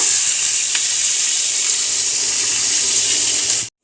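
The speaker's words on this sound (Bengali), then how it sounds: "এইবার আমি পরিমাণ মতন জল দিয়ে দেব।" Water poured steadily from a tap or jug into a pan of frying masala and potatoes, a loud, continuous rushing splash with faint sizzle beneath, cutting off abruptly near the end.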